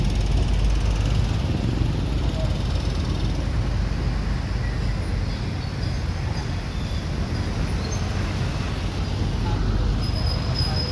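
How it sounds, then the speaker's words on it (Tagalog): Dense, steady road traffic noise in a bad traffic jam near SM Santa Rosa, Laguna, heard as a constant loud rumble of engines and tires with no break. "Inabutan na kami ng traffic dito."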